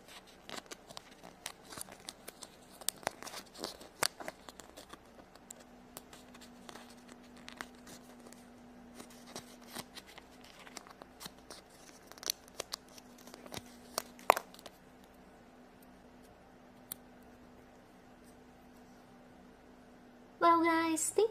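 Barbie Kinder Surprise stickers are peeled and pressed on, giving soft scattered crinkles, small taps and light tearing sounds, close but faint, with a louder rustle at the very end.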